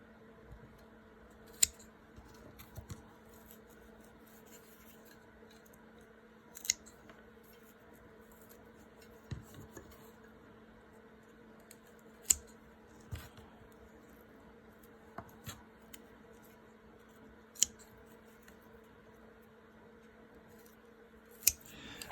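A plant rhizome being cut in half with shears, faint scattered sharp snips and clicks a few seconds apart over quiet background hum, close and with no talk.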